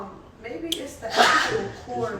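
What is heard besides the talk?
sneeze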